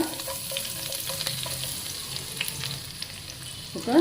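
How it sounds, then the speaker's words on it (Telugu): Onion, slit green chillies, cinnamon, bay leaves and pepper fry in a pan over a high flame, giving a continuous close sizzle with light stirring scrapes. "ఫ్లేమ్ హైలోనే పెట్టుకుని చక్కగా దోరగా అయ్యేంత వరకు వేయించుకుందాం"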